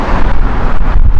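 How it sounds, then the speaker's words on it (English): Strong wind at Heathrow Airport roars and buffets without a break, loud and close, with gusts battering the microphone. "It is very windy"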